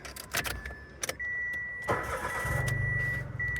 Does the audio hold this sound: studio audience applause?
no